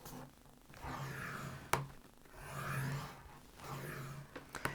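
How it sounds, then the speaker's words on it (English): Scoring lines into card with a tool while making a chocolate box, giving soft rubbing, rasping strokes with a sharp tap partway through, close and fairly quiet. "on the shorter edge, we're going to start off by scoring 1/2 inch"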